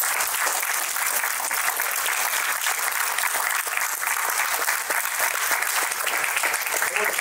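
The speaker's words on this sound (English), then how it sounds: "Give him a round of applause." A lecture audience gives a steady, dense round of applause. The clapping stays loud and continuous for several seconds, with a voice partly heard over it.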